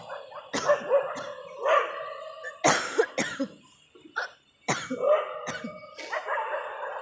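Harsh, repeated coughs, several sharp bursts in irregular succession, close and fairly loud, with barking-like yelps mixed among them.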